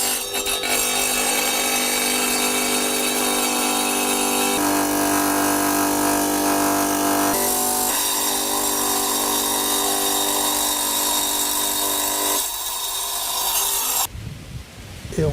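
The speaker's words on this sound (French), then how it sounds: "disposer d'une machine à couper le carrelage, qui est une machine avec un disque au carbure et à eau" A wet tile saw with a carbide disc cuts a ceramic terrace paving slab, giving a loud, steady grinding whine that holds for about fourteen seconds before cutting out near the end.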